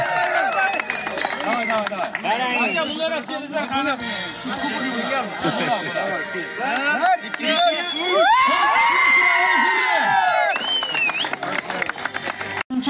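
A crowd at an outdoor sports award ceremony for a cup tournament claps and cheers, with children shouting and lively chatter throughout, while music with a singing voice plays over the loudspeakers.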